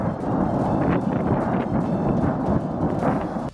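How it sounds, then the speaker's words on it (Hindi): Ammunition explodes at an army weapons depot after a fire, producing a loud, sustained deep roar and rumbling blast that stays heavy throughout before cutting off abruptly. "सेना के एक हथियार डिपो में जोरदार धमाका होता दिखाई दिया"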